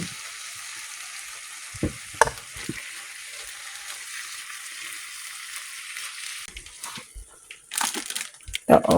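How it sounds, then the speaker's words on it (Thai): Pork and onion sizzle steadily in a hot pan, a continuous bright hiss running throughout with occasional utensil knocks and stirring clatters, busier near the end. "เราใส่หัวหอมลงไปแล้วครับ ทำหมูให้มันสุกประมาณห้านาที"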